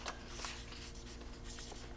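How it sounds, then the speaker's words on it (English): Pen or pencil scratching across paper sheets while a second draft is written by hand, a steady close scribbling texture with brief stroke bursts over a low background hum. "And we're going to write in their second draft."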